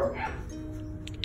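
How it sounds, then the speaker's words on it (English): Dogs bark and yip close by, with a few sharp bursts over a murmuring background and some faint whimpering. "See those dogs barking?"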